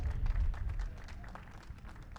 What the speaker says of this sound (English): a nice round of applause, please, from the fans down here and in the grandstands as well